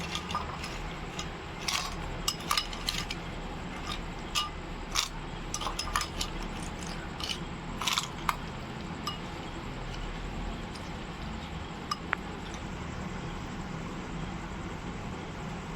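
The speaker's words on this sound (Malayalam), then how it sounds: "ഈ ചിപ്സ് ഞാൻ നൈസായിട്ട് പൊടിക്കാൻ വേണ്ടി ജാറിലേക്ക് ഇട്ടേക്കാണ്." Banana chips dropping into a mixer grinder jar, a scattered series of sharp clinks and rattles against the jar, close and fairly loud, with pauses between bursts and no talking.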